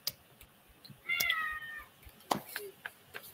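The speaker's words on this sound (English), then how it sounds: "That sounds like a cat on your end." A neighbour's cat meowing nearby, one drawn-out tonal meow in the middle followed by a couple of shorter faint chirps, over quiet room background with small clicks.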